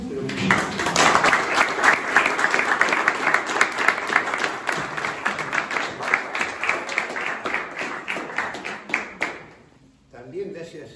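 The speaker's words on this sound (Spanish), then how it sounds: "para quien le pido un aplauso muy, pero muy fuerte" A large audience breaks into loud, sustained applause for the philosopher Mario Caponeto, dense clapping with some crowd noise that carries on for about nine seconds before dying away abruptly, followed by a brief quiet tail.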